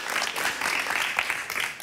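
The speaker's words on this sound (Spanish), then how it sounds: "Un aplauso para José Venegas." A studio audience on a Spanish-language television interview program breaks into applause, a dense continuous patter of many hands at moderate volume, lasting a couple of seconds without speech on top.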